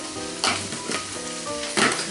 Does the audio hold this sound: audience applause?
no